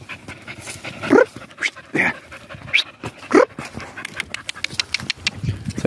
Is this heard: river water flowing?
no